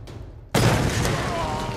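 A grenade blast in the video game Tomb Raider goes off suddenly, a loud broadband boom after a short stretch of low rumble, then a sustained roaring tail with debris hiss that carries on to the end.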